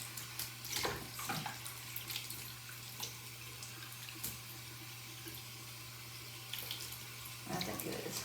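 Tap water running steadily into a sink while makeup brushes are washed under it, a continuous close rush with brief louder splashes of hands and brushes in the stream.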